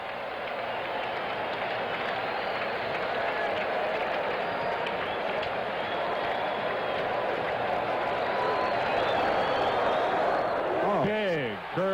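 Ballpark crowd at a Giants versus Mets baseball game, a loud, sustained roar of thousands of fans swelling steadily as they rise to their feet, with a commentator talking over it.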